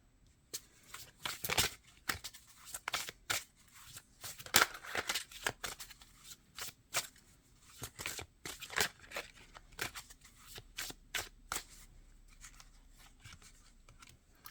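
Tarot cards are shuffled and pulled from a deck, making a long run of close, crisp snapping riffles and papery slaps in uneven bursts, with no talking.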